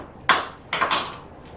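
A non-stick pan is handled on the stove while butter goes in, giving a few sharp metallic clanks and scrapes close by, separated by short pauses, with a faint ringing tail.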